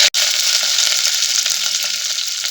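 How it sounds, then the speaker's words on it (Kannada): Mustard seeds, curry leaves and garlic sizzle and crackle loudly in hot oil for a South Indian tempering, a dense close frying hiss with small pops throughout, no voices. "ಈಗ ಇದು ಸ್ವಲ್ಪ ಫ್ರೈ ಆಗಲಿ, ಒಗ್ಗರಣೆ ಸ್ವಲ್ಪ ಫ್ರೈ ಆಗಲಿ."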